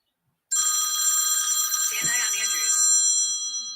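A telephone rings with a bright, steady electronic trill that starts abruptly and keeps going, loud and near, while someone talks over it partway through.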